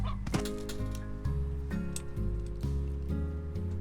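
Chickens cluck in the video game Slime Rancher, a close run of short, tonal, honking notes repeating in an uneven rhythm over a few seconds.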